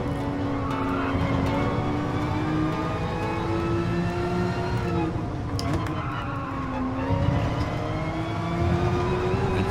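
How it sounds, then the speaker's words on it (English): In GT Sport at Brands Hatch, a race car engine revs high and steady through corners, pitch dipping and climbing with gear changes and occasional tyre squeal, loud and continuous under a commentator talking. "keeping those RPMs up so that you can just come blasting out of the turns"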